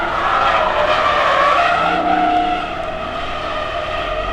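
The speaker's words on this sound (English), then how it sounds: "So I signed up for the drift with the Toyota Supra." A Toyota Supra with a BMW B58 engine drifts at a car show event, its tires squealing in a loud, sustained screech over a droning engine, close and continuous.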